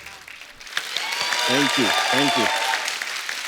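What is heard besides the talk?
loud applause for a singer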